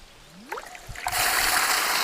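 A Pearl 3hp solar pump set in a small well starts up: a faint rising whine, then a sudden strong rush of flowing water that settles into a loud, steady gush.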